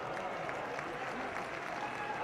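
An audience applauds at the 2018 Congress political conclave, with steady dense clapping from a large crowd that holds evenly throughout the short stretch.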